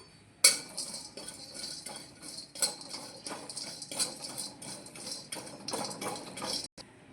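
Green pumpkin seeds roasting in a pan while making khajur pak, with a metal spoon scraping and clinking against the pan in irregular stirring strokes and faint rattling of the seeds between them.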